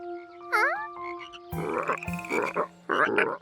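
Several frogs croak loudly and continuously, a steady tonal call overlapping dense rattling croaks from a nearby chorus.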